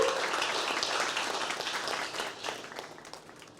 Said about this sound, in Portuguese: A gente pode aplaudir isso?